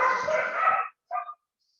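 A dog barks loudly in a sustained, rough burst, followed after a short pause by a brief, higher yip.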